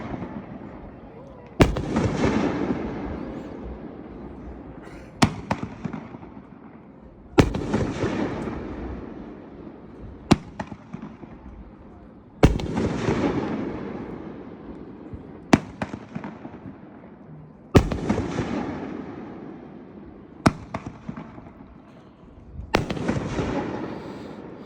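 Rack of night-shot fireworks from Hales Fireworks, the 'Feel the Noise' item at a fireworks demonstration, firing loud sharp bangs roughly every two to three seconds, each followed by a crackling, fizzing tail that fades before the next shot.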